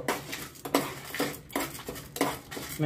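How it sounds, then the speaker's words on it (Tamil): Dal and dried red chillies roasting in oil in a pan while being stirred, a repeated scraping and clinking of a utensil against the metal pan in an uneven rhythm, close and clear. "எல்லாத்தையும் சேர்த்து நல்லா வறுத்துக்கோங்க."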